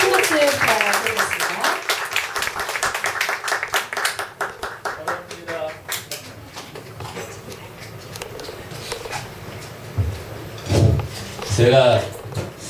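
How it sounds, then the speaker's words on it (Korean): Applause from the audience at a Korean poet's book concert, a dense burst of clapping over the first several seconds that thins into scattered claps before talking begins. "큰 박수 부탁드리겠습니다"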